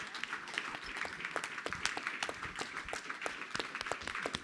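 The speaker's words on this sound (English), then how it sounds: "we have a big round of applause for Fred Liang, Tina Chang, and Sarah Schulm" Audience applause following a faculty presentation and book reading, a dense steady round of clapping from a crowded hall with no voices over it.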